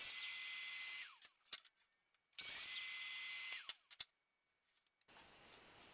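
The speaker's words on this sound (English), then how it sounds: "Over at the miter saw, I'll trim one edge square, I'll flip it around, set up a stop block," A miter saw trims wood stiles for a picture frame display, two loud whining cuts each spinning up, biting through the wood and winding down, separated by brief quiet with small clunks, close and with no talking.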